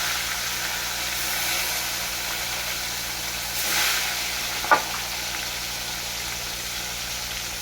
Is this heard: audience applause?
no